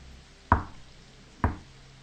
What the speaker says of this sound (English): The knocking repeated, more insistent this time.